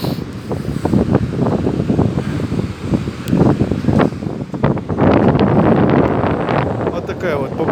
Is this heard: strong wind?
yes